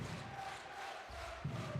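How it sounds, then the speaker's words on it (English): A home crowd at a Basketball Champions League game between Stelmet Zielona Gora and Szolnoki Olaj cheers with a sustained, distant arena roar that dips briefly and then swells again toward the end. "You can listen to the home crowd. They're loving it."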